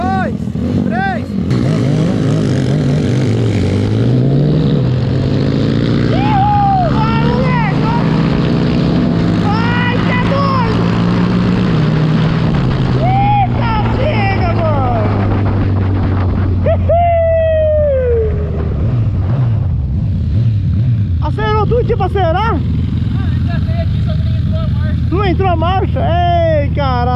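Honda Biz motorcycles, one bored to 240cc and one to 190cc, in a street drag race, engines revving loud and continuous with rising and falling pitch through gear changes while voices talk and shout over them.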